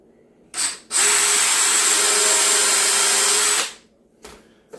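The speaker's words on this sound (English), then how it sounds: "We're going to pre-drill our holes with our tapered drill bit" Tapered countersink drill bit boring pilot holes into cabinet wood: a short drill burst, then a sustained high whine for about three seconds, followed by brief faint mechanical noises, close and loud with no talking.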